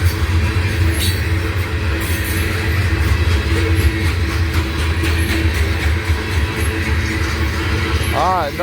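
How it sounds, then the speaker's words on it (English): A freight train with two locomotives at the head end rolls past close by, a loud sustained rumble of wheels with rhythmic rail clicks and a brief squeal near the end. "I guess he's got 2 powerful locomotives on the head end"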